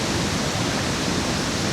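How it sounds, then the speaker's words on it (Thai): Li Phi waterfall on the Mekong River in southern Laos roars as a steady, dense rush of water, loud and unbroken throughout. "ขนาดว่าตอนนี้ก็ยังได้ยินเสียงน้ำตกแห้งพอสมควร"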